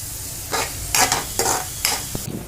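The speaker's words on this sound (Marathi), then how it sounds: "ही कलोंजी, कांद्याचं बी, थोडं लसूण परतून घेत आहे।" Kalonji, onion seeds and garlic fry in a pan with spices while being stirred, giving a steady close sizzle broken by several louder scraping stir strokes.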